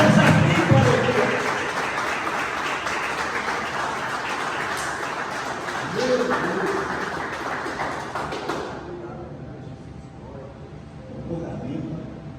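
A church congregation applauds during a men's worship service, a broad wash of clapping that fills the first eight seconds and then cuts off sharply, leaving a quieter room with faint sounds.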